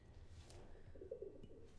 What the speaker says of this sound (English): That's a fucking pigeon.